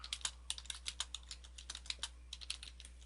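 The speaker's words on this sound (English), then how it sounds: "Type some stuff here." Rapid typing on a computer keyboard, a steady run of crisp, close key clicks with uneven rhythm over a faint low hum.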